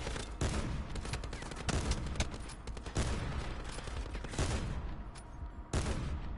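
Sniper rifle shots in the shooter game Black Ops 4, fired with quick scopes: sharp, loud cracks about once a second over steady in-game noise, with no voices.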